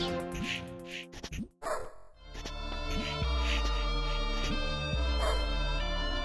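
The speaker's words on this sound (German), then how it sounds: "Ein Hund?" A dog barks repeatedly in the side-scrolling video game A Robot Named Fight, short yappy bow-wows over electronic game music and effects, with a deep low drone building up partway through.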